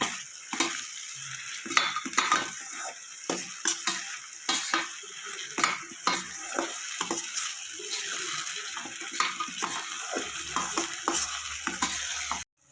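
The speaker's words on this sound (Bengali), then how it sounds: "আর কাঁচা লঙ্কা বাটার এবার ভালো করে যতক্ষণ কাঁচা হয়ে যাবে নাড়াচাড়া করতে হবে" Spoon stirring through ginger, garlic and green chili paste frying in a pan for Bengali cauliflower masala, with repeated scraping strokes over a steady close sizzle, no voices.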